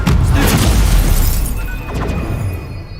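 Confringo spell explosion in the video game Hogwarts Legacy, a loud booming blast with crackling debris that fades over about three seconds.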